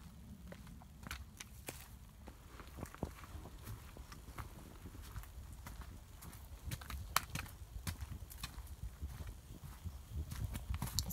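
A deer walks along a quiet forest trail near Tinker Cliffs, its footsteps a soft, steady patter of light crunching steps over faint outdoor ambience, with no talking.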